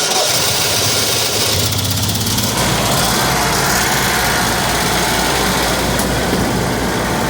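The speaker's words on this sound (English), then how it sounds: "Generac 5500 RV generator." A Generac 5500 RV generator engine cranks and catches about 2.5 seconds in, then runs steadily with a loud, continuous mid-range drone and low hum to the end, with no voices.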